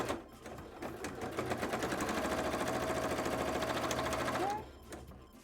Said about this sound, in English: These ones I'm just going to do the regular stitch on.